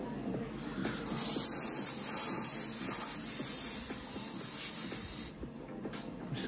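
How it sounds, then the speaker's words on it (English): An airbrush or spray can lays base coat paint onto a Revell 1/72 scale Type IX C U-boat model, a continuous close hiss with brief pauses and faint handling noise underneath. "is spraying her up to get her ready for a weathering coat."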